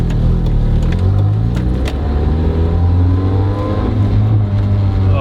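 A car engine revs and roars steadily throughout, loud and close, with rising and falling engine tones as the vehicle drives.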